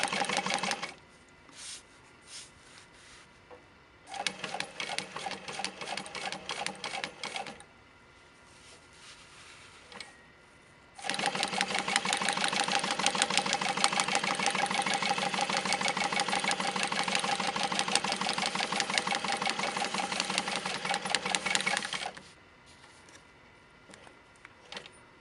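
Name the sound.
Juki DU-1181N industrial walking foot sewing machine sewing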